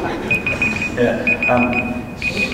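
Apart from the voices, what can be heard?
alarm going off for boiled eggs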